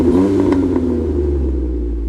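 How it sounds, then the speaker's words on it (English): A Jeep Wrangler fitted with a Militia Gibson exhaust idles with a deep, loud rumble after a brief rev at the start, close by with no talking. "is my Militia Gibson exhaust. It has a nice exhaust note."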